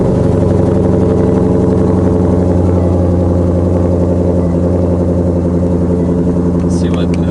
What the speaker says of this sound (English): I will go ahead and start the GT500 up for you guys so you can hear the difference.